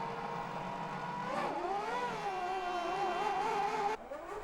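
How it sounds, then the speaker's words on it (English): A 1998 Formula 1 car, a McLaren, accelerates out of the pit lane with a rising, whining engine note that holds steady at moderate distance under crowd ambience, then drops away abruptly. "Häkkönen's in from first and is even quicker, exiting the pit lane as Schumacher's Ferrari bears down"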